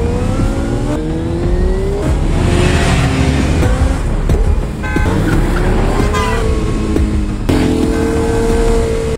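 Motorbike revving hard and speeding away in a dramatic action scene, engine pitch climbing in steady rising sweeps, loud and close, with a brief dip midway before the roar surges again.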